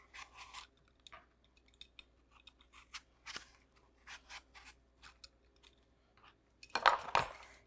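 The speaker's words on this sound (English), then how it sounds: "Get most of the peel off the apple" An apple being peeled with a knife, giving a run of small close scraping and cutting strokes in quiet bursts, with a louder scrape near the end.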